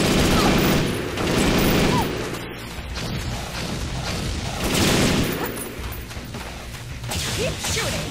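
Sustained gunfire rattles through a bridge stage of the video game Perfect Dark Zero, loud bursts with whooshes and crashes swelling and fading in waves over several seconds.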